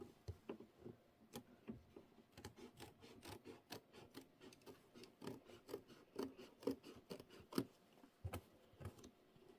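Scissors snip around a quilt block in quick, irregular bursts of sharp crisp cuts, close but quiet, continuing steadily without talk.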